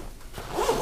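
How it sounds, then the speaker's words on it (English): A Hot Logic lunch bag zips shut in one quick close pull, the zipper's rasp rising in the second half and ending abruptly. "Zip it up."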